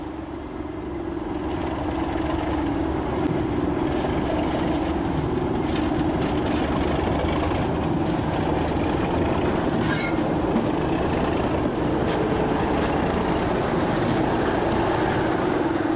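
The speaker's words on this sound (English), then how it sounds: "The second train arrives, with the 37's characteristic growl." A British Class 37 diesel locomotive growls with a deep, steady engine drone as the train rolls past, loud and continuous with faint rail clatter underneath.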